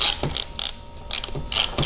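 A ratchet tightens the bolt that holds a coolant tube during a water and oil pump install on a 2004–2006 Yamaha R1. It gives several short, close clicking bursts in an uneven rhythm.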